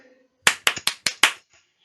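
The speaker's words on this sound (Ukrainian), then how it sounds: "Плескайте в долоні." Children clap six times in a short, fairly even sequence during a speech-sound game in a kindergarten class. The claps are sharp and nearby, with a faint voice just before them.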